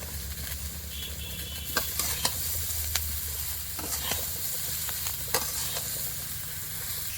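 Food sizzles steadily in a hot pan, with occasional scraping clicks from stirring and no voices.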